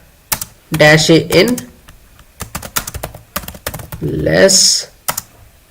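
Quick bursts of clacking keystrokes on a computer keyboard as a terminal command is entered, close and crisp, mixed in with brief bits of a man's speech.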